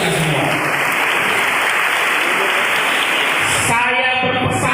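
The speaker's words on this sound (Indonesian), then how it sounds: "Tepuk tangan dulu untuk kita semua." Loud, dense applause from an audience at a PDIP party meeting in Tangerang Selatan, sustained clapping that fills the room before cutting off into a short tonal sound near the end.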